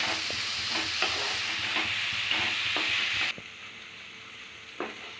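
Sliced onions with ginger-garlic paste sauté in a pan for a homemade chicken masala, giving a steady close sizzle with repeated scraping stirs, quieter for the last two seconds.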